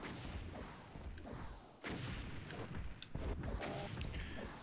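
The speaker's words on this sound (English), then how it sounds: "we'll just keep hitting him with the rockets" Rocket fire in the Doom video game, repeated heavy booming blasts and rumbling explosions in a dense, continuous battle mix.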